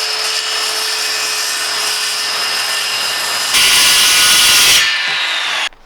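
A power saw cuts steadily through wood for a kicker ramp, a loud continuous whine that rises in pitch and intensity near the end before stopping abruptly.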